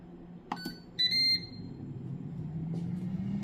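A kitchen timer goes off while chicken wings are being cooked, giving two short, loud electronic beeps close by over a low background hum.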